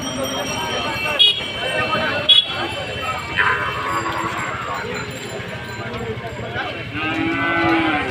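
Cattle moo several times amid a busy cattle market, with voices and crowd chatter running underneath throughout.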